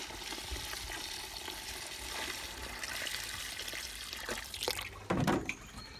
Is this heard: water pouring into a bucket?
yes